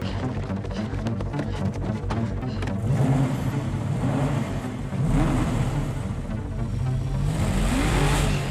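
A station wagon engine on a TV series set is revved hard again and again, a loud, continuous mid-pitched roar that rises and falls with each throttle blip, close by and with no talk over it.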